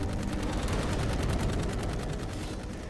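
Sustained gunfire from the video game Dark Void, rapid repeated shots in a dense, loud, continuous barrage with combat noise throughout.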